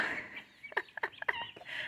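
Chickens clucking in a stall where pullets have slipped in with the bigger hens, a string of short, close clucks and squawks over a steady barnyard hum.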